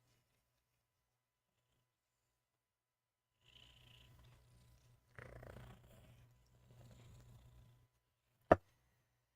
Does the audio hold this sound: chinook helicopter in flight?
no